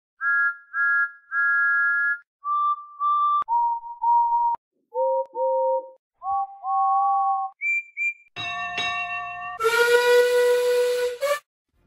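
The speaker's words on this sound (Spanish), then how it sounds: "se terminó por sintetizar esos silbidos en el instrumento musical" Synthesized steam locomotive whistles from Thomas and Friends, played on a musical instrument, sound a series of clean tonal toots at varying pitches, ending in louder, harsher multi-tone blasts with hiss, with no talking.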